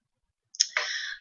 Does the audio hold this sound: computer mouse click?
yes